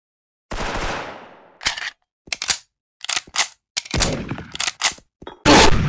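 In Special Force, a Bolt Dual MP9 fires several sharp, close bursts of rapid automatic shots, separated by short silences, loud and dry with no voices.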